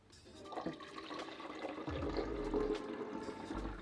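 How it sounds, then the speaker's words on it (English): Water runs from a tap into the removable water tank of a Smeg ECF01 coffee machine, a steady filling rush that deepens in tone as the tank fills, quiet and alone. "Firstly, fill up the water tank."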